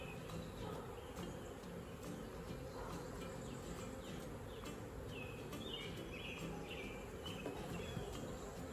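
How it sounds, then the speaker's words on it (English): Stirred-up honeybees at an opened hive, smoked to calm them, give off a steady, dense buzzing hum close by, continuous throughout with no talking. "So these bees are stirred up a little bit"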